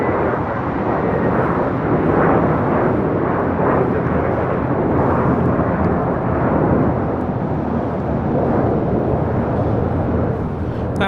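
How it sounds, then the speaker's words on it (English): A JetBlue Airbus A321 jet takes off at LAX, a steady, loud broadband roar that holds for the whole stretch with a slight swell and fade, with no voices over it. "That was JetBlue 1700 taking off to Fort Lauderdale on an A321"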